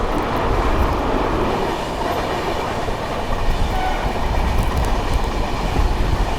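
Loud, continuous rumble and rattle of the 22449 Poorvottar Sampark Kranti Express running through Anand Vihar, heard from on board, with steady rolling wheel noise and clatter and no speech.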